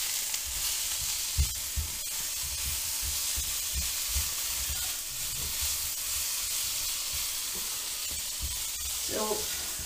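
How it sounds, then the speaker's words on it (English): Potatoes for Bombay potato fry in a pan with a steady hissing sizzle, punctuated by intermittent spoon-scraping stirs and a short burst of speech near the end. "you need to fry it nice and brown as much as can"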